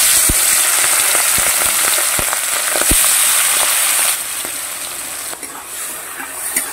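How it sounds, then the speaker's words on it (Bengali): Shrimp fry in oil in a pan, a loud steady sizzle peppered with sharp crackling pops, easing slightly quieter partway through; no one speaks. "এইবার একটু তেল দিয়ে দিলাম, মাছটা একটু ভেজে নেই"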